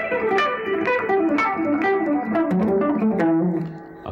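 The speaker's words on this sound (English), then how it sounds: "we're going to play it going backwards 5 notes at a time, and quickly it will sound like this." Electric guitar with effects rapidly descending a pentatonic scale in five-note groups, a fast run of distinct plucked notes, loud and close with no talking.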